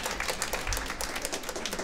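An audience at a community cultural centre choir concert claps steadily, a soft continuous patter of applause from a mid-sized crowd heard at moderate distance.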